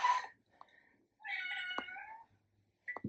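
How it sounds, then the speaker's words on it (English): A cat lets out several meows and screams: a short yowl, a faint cry, then a longer drawn-out wail, and one more sharp cry at the end, loud and close with no talk. "Kitty cat scream."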